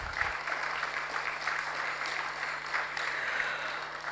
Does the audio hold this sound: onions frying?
no